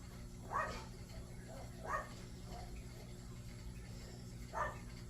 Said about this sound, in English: The doggies are seeing somebody that's walking down the road. That's why you hear a bunch of barking.